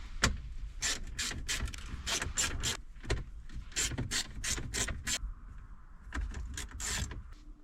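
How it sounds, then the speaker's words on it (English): A ratcheting screwdriver or driver backs out the four screws holding a car's stock stereo head unit in the dash, a series of quick, close clicking ratchet bursts with short pauses between them. "Next thing to do is remove the 4 screws retaining this"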